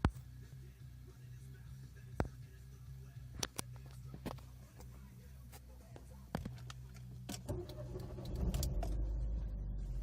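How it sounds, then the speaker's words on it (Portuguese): A car engine is started and settles into idle around 1095 RPM. Keys jingle and click quietly inside the car first, then the engine turns over near the end and a low, steady rumble takes over. "liguei o carro, o RPM está em 1095"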